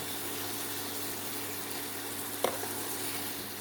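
Butter frying in a pan for a breakfast dish, a steady broad hiss and sizzle running throughout with one brief clatter partway through, no voices.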